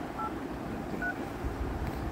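Two short keypad tones from a smartphone dial pad sound as digits are pressed, each a brief clear beep over a soft room background.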